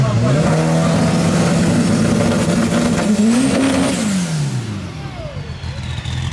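A rare Volkswagen Beetle drag car launches at a drag strip, its engine howling loudly and rising in pitch as it accelerates hard, then fading as it pulls away, with crowd noise underneath.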